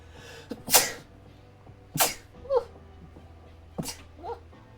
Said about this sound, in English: I'm also about to sneeze.